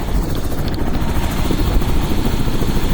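Close, loud rotor thump and engine roar of a rescue helicopter on the Everest Base Camp trek in Nepal, a rapid continuous chopping beat with no speech.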